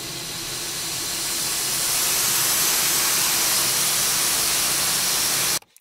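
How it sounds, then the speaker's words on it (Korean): A steam pump sound effect gives a loud, continuous rushing hiss that builds over the first two seconds, holds steady and then cuts off abruptly. "증기 펌프."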